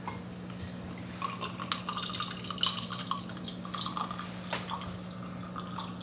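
Iced coffee pouring out of a prototype commercial rapid chiller, a close, continuous trickle with scattered drips and liquid splashes over a steady low hum.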